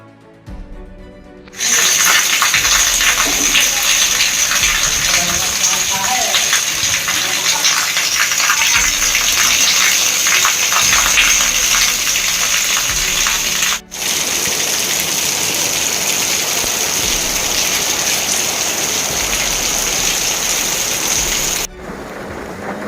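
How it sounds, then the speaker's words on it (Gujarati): Unseasonal rain falls in Kankrej taluka, Gujarat, a loud, dense, continuous patter and rush of rainwater with a brief break partway through before the downpour resumes just as steadily. "ડુંગરાસમાં વરસાદ છે."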